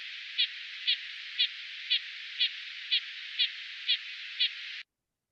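Nuthatch alarm calls aimed at a high-threat pygmy owl sound as a fast, even series of about nine short nasal notes, evenly spaced at roughly two per second, over a steady band of hiss that cuts off abruptly.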